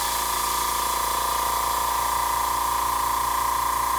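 A Tamiya airbrush compressor runs steadily on its own, giving a continuous, fairly loud hum with a fast, regular pulsing throb and an airy hiss throughout.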